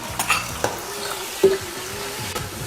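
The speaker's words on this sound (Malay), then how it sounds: "Kemudian kita nak tumis bawang besar, bawang putih bersama dengan serbuk kunyit." Onion, garlic and turmeric powder sautéing in hot oil in a pot, with a soft continuous sizzle broken by several sharp scrapes and knocks of a stirring utensil against the pan.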